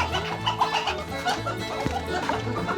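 Farm chickens in a coop cluck in rapid, overlapping bursts while people try to catch and move them, a busy, close, continuous clucking with a sharper squawk partway through.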